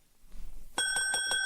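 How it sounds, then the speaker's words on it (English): A counter bell in a shop rings out with a bright metallic tone, struck in several quick close dings after a short stretch of quiet room noise. "There was a bell on the counter."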